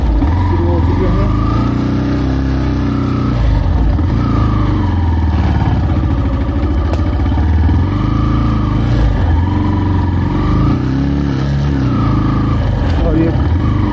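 Motorbike riding along a rough mountain road in Uttarakhand, carrying a passenger: a steady, close engine drone with low rumble and light clatter that continues for the whole stretch, with talk over it.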